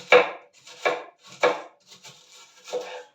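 Red cabbage being finely chopped with a knife on a board: five crisp, evenly spaced cutting strokes, close and clear, with no talking.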